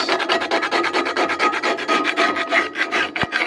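A cast iron pan is scrubbed in rapid back-and-forth strokes, a loud, close, rhythmic rasping that repeats roughly six times per second with a single dull knock near the end.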